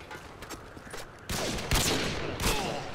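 Gunfire in Call of Duty: Modern Warfare 2, starting with faint scattered shots and then building into several loud, close bursts of rapid fire over a steady game background.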